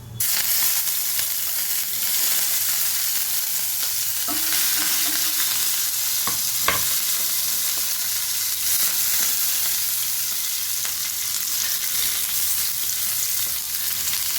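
Curry leaves and green chillies fry in hot oil for a Karaikudi-style sundakkai paruppu pachadi, giving a continuous close sizzle with occasional scrapes and taps of a stirring spoon against the pan.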